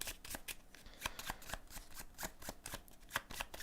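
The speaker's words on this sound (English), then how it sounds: "Which means I have to shuffle my deck." A deck of cards shuffled during a tabletop board game session, a rapid run of crisp riffling snaps and flicks in quick succession, close and fairly quiet, with no talking.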